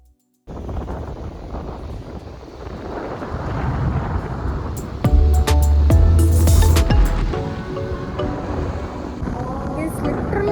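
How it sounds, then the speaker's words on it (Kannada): Strong wind roaring and buffeting the microphone at a reservoir backwater, with deep rumbling gusts and some faint voices and clatter in the background. "ಎಷ್ಟು ಗಾಳಿ ಅಂದರೆ"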